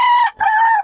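A chicken calls loudly and close by in two drawn-out, strained notes separated by a brief break, with no other sound around it.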